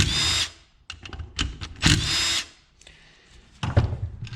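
A power drill runs in short bursts, spinning screws out of the screen on a junk YFZ450 engine, with sharp whines broken by pauses and light handling clatter.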